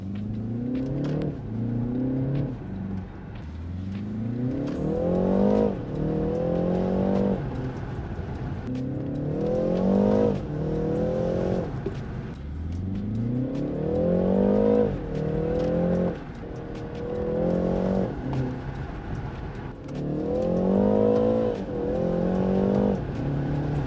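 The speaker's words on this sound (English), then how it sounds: "we'll go for another quick test drive" A BMW engine revs up repeatedly, climbing in pitch through each gear before dropping at the shift, heard from inside on a test drive over about twenty seconds.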